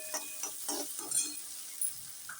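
Ground green chili and cumin drop into hot oil in a pan over low heat, making a soft, intermittent sizzle with a few quiet stirring clicks close by and no speech.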